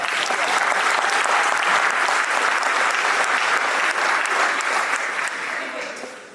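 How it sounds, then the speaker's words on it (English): Crowd at a high school football signing day applauds an offensive lineman, a full, steady roar of clapping that stays loud before easing off near the end. "He needs a round of applause just for that."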